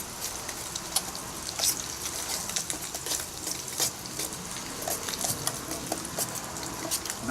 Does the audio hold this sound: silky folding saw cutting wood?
no